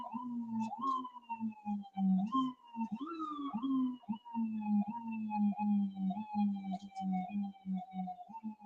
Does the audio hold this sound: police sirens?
yes